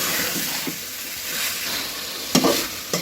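Duck meat being stir-fried with spices for a potato and duck curry, a steady close sizzle of frying in the pan with a couple of sharper scraping stirs near the end.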